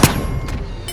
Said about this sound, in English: Tossing a flashbang.